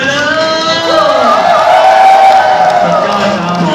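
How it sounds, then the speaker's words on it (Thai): A crowd of supporters at the back cheers and shouts loudly and continuously, voices overlapping in a sustained roar of excited whoops. "กองเชียร์ด้านหลังส่งเสียงเลยเลย"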